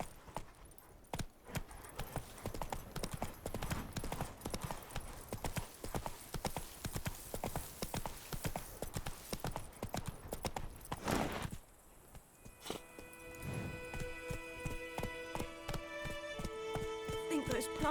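Roach, a horse in The Witcher 3, galloping with steady rhythmic hoof clip-clops and harness jingle, loud and close, then slowing as music swells near the end, with someone speaking briefly over it.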